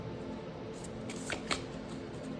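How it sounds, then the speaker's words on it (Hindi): Tarot cards being shuffled and drawn from a deck for a reading, a soft continuous riffle with a few sharper card snaps near the middle, close and moderately quiet. "अब मैं आप लोगों के लिए भी 2 कार्ड्स निकालने वाला हूँ"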